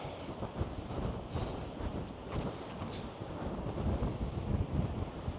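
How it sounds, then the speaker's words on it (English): Strong wind buffets the microphone on the beach at Filey, a continuous loud roar with gusty swells and crackling rumble, surf noise blending underneath. "In this wind, it's terrible."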